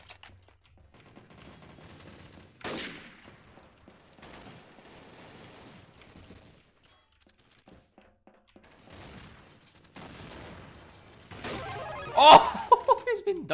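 Counter-Strike: Source gun game match with sparse bursts of game gunfire and impact cracks scattered between quiet gaps, with a sharper cluster near the end and some talking in places.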